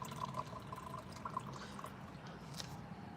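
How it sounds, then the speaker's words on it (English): Fresh hot coffee being poured, a faint steady liquid trickle with small drips, low and continuous throughout under a quiet room hum. "I'm pouring some fresh hot coffee."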